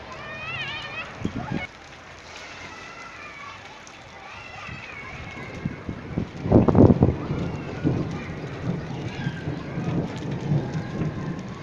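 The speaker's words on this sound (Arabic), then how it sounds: "والامطار ما شاء الله" Heavy summer rain falls in a steady hiss, with a loud rumble in the middle and voices speaking over it at times.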